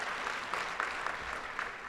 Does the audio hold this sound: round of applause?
yes